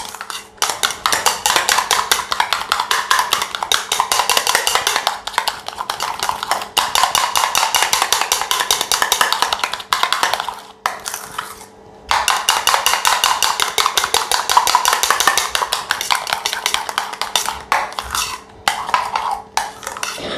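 Chicken and vegetable sandwich filling is mixed in a bowl with a spoon, giving a loud, steady run of rapid stirring and scraping clinks that stop briefly partway through and then resume.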